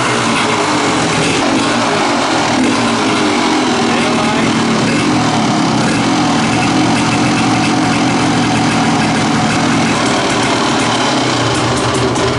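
A cheap Kawasaki dirt bike engine runs at a steady, loud idle close by, a constant buzzing drone throughout with no pauses.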